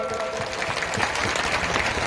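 Steady applause from a crowd at a tribal community gathering in Rajasthan, a dense wash of clapping that holds at an even level for about two seconds with no pauses.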